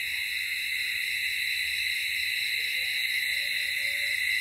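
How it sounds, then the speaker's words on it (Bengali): Crickets chirping at night in rural Bangladesh, a dense continuous high-pitched trill holding steady throughout, with a faint distant wavering tone rising briefly in the background. "তাহলে শাহিন বলো, ঝিঝি পোকার ডাক, খুব ভালো লাগে আমার।"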